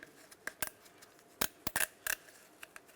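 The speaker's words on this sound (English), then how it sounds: "Let's just take a nice wire tie. We're going to wrap it around this big portion here." Sharp plastic ratcheting clicks from a wire tie being fastened around a steering rack boot on a 1999-2003 Toyota Solara, a quiet, irregular series of close zipping ticks in short clusters.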